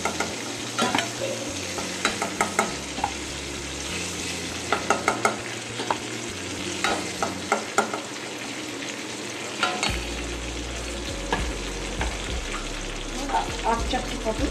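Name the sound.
pointed gourd (potol) frying in pan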